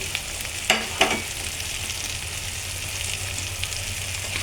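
Mashed bean bharta being fried into a cooked masala, with a steady low sizzle and two sharp spatula knocks early on, followed by quieter scraping.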